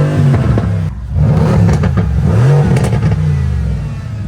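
Loud Mercedes C63 S engine revving hard in race mode with mufflers cut off, rising and falling in throttle blips with a raw, unmuffled rasp and crackle, close up.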